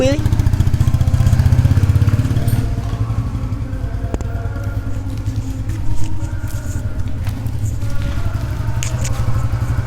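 Engine of a Suzuki GSX motorcycle running on a test ride after a clutch switch replacement, a loud steady rumble that swells briefly and then holds level, close by, with some talking over it.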